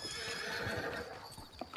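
A horse in Red Dead Redemption 2 gives a loud, close whinny with hoof clops underneath, then the neigh cuts off into a few scattered hoof knocks.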